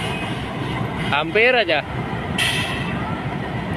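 A train rumbles loudly through the Warung Bambu level crossing in Karawang, where a car nearly gets hit, with steady heavy noise throughout and a person briefly exclaiming partway through.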